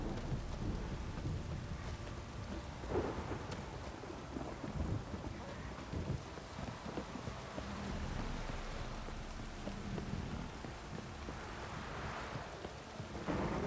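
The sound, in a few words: heavy rain and thunder in video game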